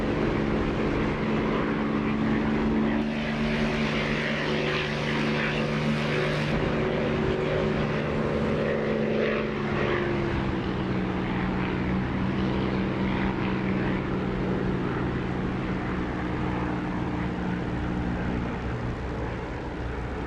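Steady, loud propeller-aircraft engine drone from the DCS flight simulator during approach as the landing gear is lowered, holding for the full stretch with a slight shift in tone about midway and no talking.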